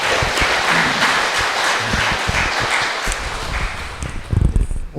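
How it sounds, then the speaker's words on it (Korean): Loud, steady clapping of thanks from the audience at a Catholic marriage mentor education lecture, a continuous crowd wash that thins slightly near the end. "감사의 박수."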